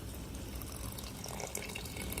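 Hot water pours into a pot of coconut rice porridge with a steady, close splashing and gurgling flow that runs the whole time, with no voices over it.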